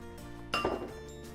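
A spoon clinks against a pot while seafood egusi soup with mushrooms is stirred, giving a brief metallic clatter of a few knocks over a quiet, steady background hum.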